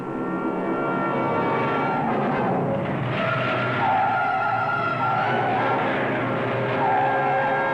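Car tyres skidding on a road as another driver cuts a corner onto the wrong half, a steady loud screech with engine roar throughout, no voices.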